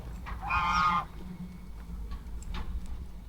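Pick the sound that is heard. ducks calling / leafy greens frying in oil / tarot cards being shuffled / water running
ducks calling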